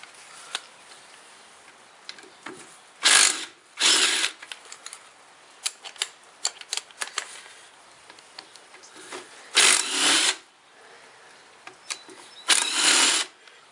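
Bolts come off a failed viscous coupling on a 2002-2010 Ford/Mountaineer AWD with an air or power tool, in four loud whirring bursts separated by fainter ticks, clinks and handling noises nearby.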